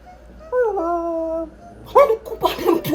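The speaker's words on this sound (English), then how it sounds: "Look at them two dog there." Two dogs whimper and howl close by, with a drawn-out wavering howl followed by sharper whiny yelps and yips.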